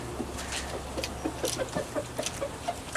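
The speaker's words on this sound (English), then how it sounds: "See, I only have one rooster, and it's okay." A lone rooster in a small backyard flock clucks in short, repeated bursts over a steady low hum, with fainter rustling and pecking sounds around it.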